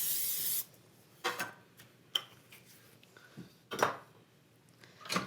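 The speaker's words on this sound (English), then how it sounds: "We're just gonna lightly spray our pan here." Cooking spray hisses briefly onto a half sheet baking pan while a spiced carrot cake is being made, a short bright burst at the start followed by scattered clinks and taps of kitchenware.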